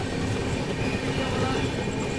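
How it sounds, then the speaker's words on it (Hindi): The Guwahati–New Delhi Rajdhani Express runs through Hajipur Junction at speed without stopping, a loud continuous rolling rumble with rhythmic wheel clatter from on board. "अभी देखो अपनी ट्रेन स्किप करने जा रही है हाजीपुर जंक्शन रेलवे स्टेशन।"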